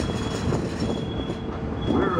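Disneyland Railroad train on the Grand Circle Tour approaching New Orleans Square Station, a loud steady rumble of wheels and cars rolling along the track with a brief squeal near the end.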